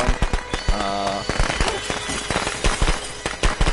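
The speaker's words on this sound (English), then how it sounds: "Put firecrackers down, that's great." Firecrackers set off in the video game Friday the 13th crackle as a dense, loud burst of rapid snapping pops over a noisy game soundscape, with irregular sharp cracks continuing throughout.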